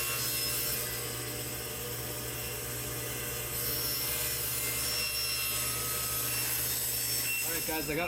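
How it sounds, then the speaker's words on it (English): A saw makes the first cut through a full 4x8 sheet of Baltic birch plywood, a continuous, fairly faint grinding hum with a steady tone that shifts slightly partway through. "First cut is always the tough one. It's a full 4x8 sheet of plywood, Baltic birch"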